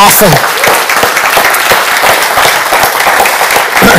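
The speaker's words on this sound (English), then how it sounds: "Can we applaud those who say yes to Jesus?" A church congregation claps together during a worship service, a thick continuous wash of applause close and loud, with faint voices mixed underneath.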